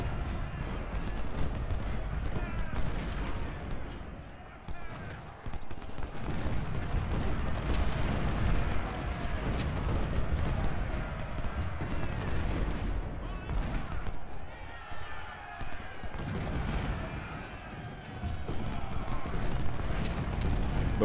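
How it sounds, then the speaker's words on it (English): Artillery and rifle gunfire in Ultimate General: Civil War's Battle of Fredericksburg, a dense, continuous battlefield roar of cannon booms and musket volleys that is loud throughout, dipping briefly in places. "Now we've got some serious firepower with our guns."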